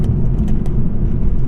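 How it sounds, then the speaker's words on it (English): Close, loud engine and road noise from a 2023 Toyota Supra 3.0L with a six-speed manual, a steady low rumble throughout with no distinct shift break visible while it drops into second gear. "Let's go down to second gear here"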